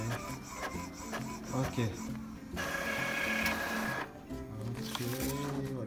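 An Epson L3116 printer runs a test print, with a whirring mechanism, stepping and grinding clicks and a sustained high-pitched motor whine in the middle, while a person speaks softly near the start.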